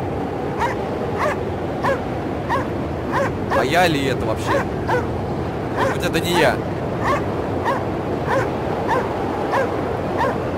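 A dog barks and yips repeatedly in the game Anabiosis: Sleep of Reason, sharp evenly spaced barks with a few whimpers, heard under someone talking and a steady wind-like background hiss.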